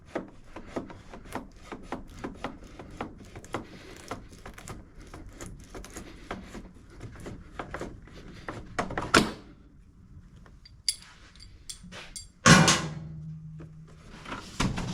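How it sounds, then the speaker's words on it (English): Seat being lifted off a John Deere Z335E zero-turn mower, with repeated rubbing, scraping and knocking of metal and plastic parts nearby, then a sharper clunk and a loud thump as it comes free. "Take the seat off. There's just 2 pins."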